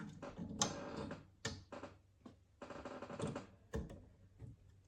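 A Core XY 5-axis 3D printer carriage glides along its rails, giving several short bursts of mechanical motion with soft clicks and whirs between brief pauses, close and fairly quiet, with no talking.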